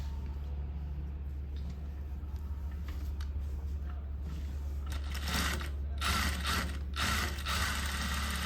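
Sewing machine stitching a shoulder seam with a steady low mechanical hum and rapid clicking needle action, rising into louder bursts of stitching toward the end, no voices present.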